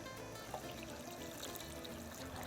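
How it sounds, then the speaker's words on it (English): Salted water poured steadily into a cooking pot holding onion, garlic and aromatics for carnitas, a continuous close splashing rush that fills the whole stretch without talk. "And now pour in that salted water."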